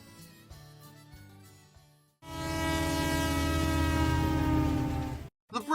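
A British Rail Mark 5A train sounds a loud, sustained horn blast of about three seconds, rich in harmonics, cut off abruptly, with a brief second blast starting at the end; quieter tonal train sound precedes it.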